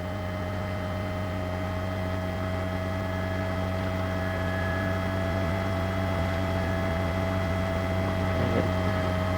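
A news helicopter flies over a house fire with a steady droning hum of engine and rotor that stays constant and fairly loud throughout, with no voices.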